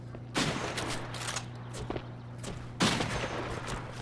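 Sniper rifle gunfire in the Shotgun Farmers video game, with two loud sharp shots about two and a half seconds apart over a steady low game hum.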